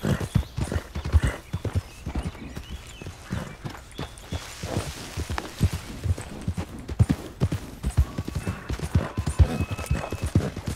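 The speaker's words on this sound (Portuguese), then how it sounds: "Tá gostando do cavalo? Esse aqui é brabo." Horse hooves clip-clop in a steady galloping rhythm across Red Dead Redemption 2 game terrain, close and continuous throughout, with an occasional whinny.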